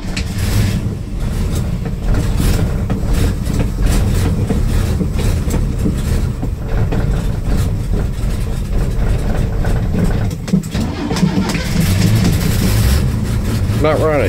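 Chevrolet Stovebolt six engine running after a cold start without a choke, a loud close rumbling idle with a steady uneven low chug, slight revs near the end and someone speaking briefly over it.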